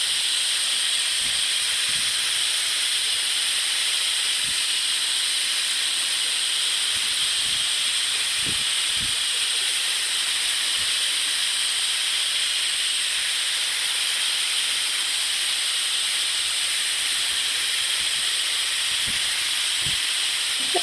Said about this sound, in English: This gentle outlet venting step should result in a modestly loud hissing sound, but not an annoyingly loud sound.